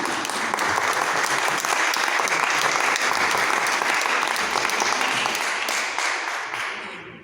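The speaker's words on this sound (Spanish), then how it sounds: "Un aplauso." An audience applauds after a poetry book presentation at a Jewish book fair, a dense, sustained burst of many hands clapping that stays loud for several seconds, then thins and fades out.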